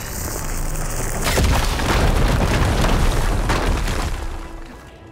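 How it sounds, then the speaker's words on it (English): A fire gleam crystal blows up in Horizon Forbidden West, a loud sustained rumbling explosion that roars for several seconds after a sharp onset, then slowly fades. "Should be able to blow up that fire gleam."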